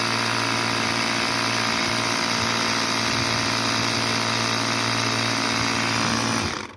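Air compressor inflating a Presta bike inner tube, a steady buzzing motor drone with a hissing edge, running continuously up close before cutting off at the end.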